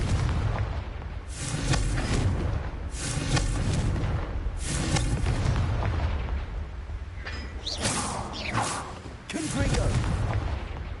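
Repeated Confringo blasting-spell explosions in Hogwarts Legacy: five or six loud, broad bursts arrive roughly every one to two seconds, each leaving a rumbling tail over continuous game background noise.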